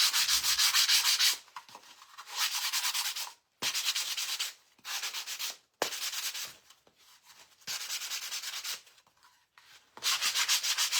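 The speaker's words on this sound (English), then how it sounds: "I'm going to sand this." A wooden pumpkin door sign is sanded by hand in repeated bursts of close, scratchy rubbing separated by short pauses.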